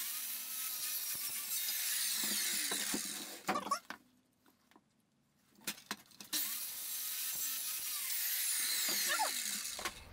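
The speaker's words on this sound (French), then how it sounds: "je place mon guide à l'endroit où je veux à peu près couper la palette" A saw cuts through a wooden pallet along a guide, loud rasping strokes in two long bursts separated by a quiet pause with a few clacks, recorded up close.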